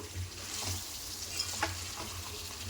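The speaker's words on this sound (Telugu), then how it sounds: "అల్లం వెల్లుల్లి పేస్టు మంచిగా ఫ్రై అయిందండి" Ginger garlic paste with turmeric frying in a pan for a chicken curry, a soft steady sizzle with a few light stirring clicks and scrapes, with no talking.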